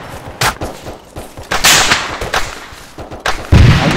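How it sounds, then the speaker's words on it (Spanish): Loud gunshots crack in irregular bursts, some single and some in quick succession, with heavy booming blasts close by. "disparo desde el oeste, muchachos"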